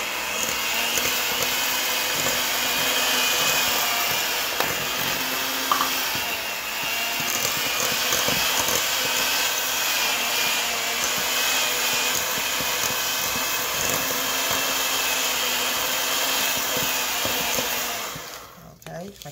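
Oats are being mixed into oatmeal chocolate chip cookie dough with an electric mixer, which runs as a continuous loud whirring drone with scraping textures and stops abruptly near the end.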